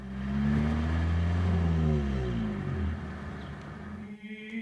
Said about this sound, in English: In a car, the valves open and close, and we get big bursts of sound coming out from the engine.